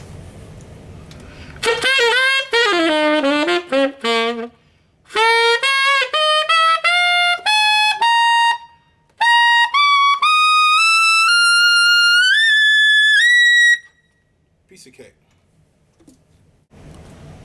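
A tenor saxophone plays a series of high, sustained altissimo notes in separate phrases, some rising in pitch, with brief pauses between, ending with faint rustling.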